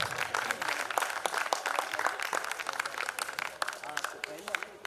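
A theatre festival crowd in Itarsi applauds loudly as a performer is welcomed onto the stage, a dense continuous wash of clapping with a voice speaking over it.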